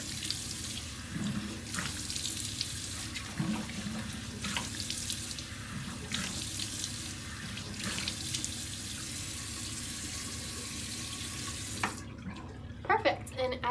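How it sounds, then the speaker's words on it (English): A bathroom tap runs steadily into a sink while a face is rinsed clean of makeup during a nighttime skincare routine, with splashing pulses of water; the flow stops near the end, leaving a few small clinks. "So now we're going to rinse."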